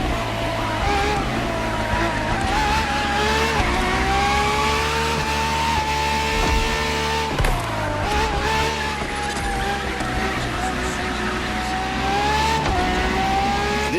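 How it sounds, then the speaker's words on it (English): A Ferrari FXX K, the track-focused LaFerrari-based hypercar, racing in The Crew Motorfest, its engine note rising and falling through gear shifts with brief tire squeal, loud and continuous throughout. "For this second lap, you'll be driving the FXXK."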